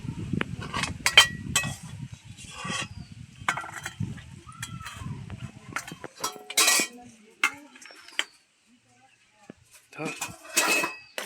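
Clinking of a spoon and pot while taro leaf curry cooked with hilsa fish head is served into a dish, with intermittent scraping knocks and someone talking over much of it, then a short silence.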